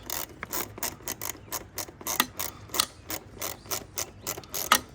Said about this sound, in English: Grab a 7 for my ratchet